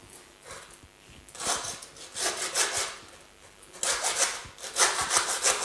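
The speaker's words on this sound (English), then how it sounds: "just cutting through the bone, you can hear the pitch change when you get into the meat" A hand saw rasps back and forth through lamb bone in uneven strokes, gritty and close, with the pitch shifting as the cut deepens into the meat.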